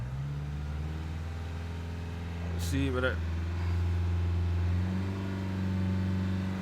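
A 2015 Dacia Logan MCV 1.5 dCi diesel idles and revs at the roadside, a steady low engine hum rising slightly in pitch, while someone talks over it.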